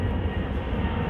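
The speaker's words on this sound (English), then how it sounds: "you can hear in the air right there. That's the plane flying over the top." Aircraft engine roar from a plane flying overhead near an airport, a steady loud broadband rumble heard outdoors in a park with no talking.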